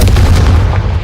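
An explosive spell blast in the game Hogwarts Legacy, a single short, loud booming burst with heavy low rumble that decays quickly.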